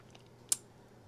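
A single crisp key press on an MCHOSE ACE 68 Turbo Hall Effect mechanical keyboard with linear switches, close and fairly faint, standing alone over a low background hum.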